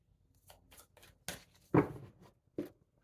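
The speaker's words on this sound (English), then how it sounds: "Shuffle." Oracle cards are shuffled by hand in a quiet room, a series of soft, scattered flicks and riffles with a few sharper snaps.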